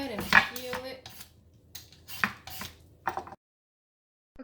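Butternut squash being peeled on a kitchen surface, a series of sharp scraping and knocking strokes in uneven bursts, close and fairly quiet, ending in silence.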